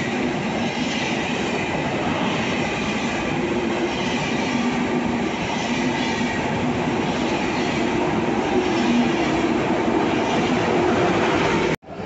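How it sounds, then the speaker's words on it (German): An ICE 1 high-speed train rolls past close by in a steady, loud rumble and roar lasting about twelve seconds, with a faint rhythmic rail clatter before it cuts off abruptly at the end. "Das ist ein ICE 1."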